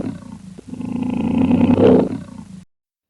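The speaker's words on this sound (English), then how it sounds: "So, we have got lion here." A lion roars once, a deep, rising and swelling roar that builds to a loud peak and then cuts off, heard close and alone.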